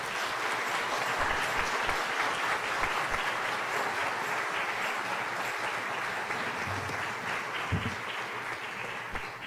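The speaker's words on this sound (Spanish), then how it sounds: "yo por eso pido un fuerte aplauso para esta juventud" A church congregation gives young people a strong round of applause: dense, steady clapping that fills the room for about ten seconds and then eases off slightly at the end.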